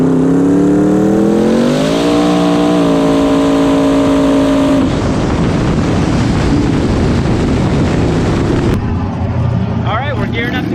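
Twin-turbo Mustang making a drag racing pass: a loud, rising engine roar climbing through gears, then a harsher, rougher blast of power before cutting off near the end, with voices underneath.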